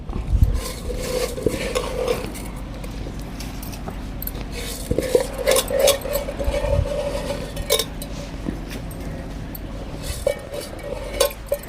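Mutton biryani is stirred in a metal pot over a wood fire, with repeated scraping and clinking of the utensil against the pot over a low background hiss, close and fairly loud.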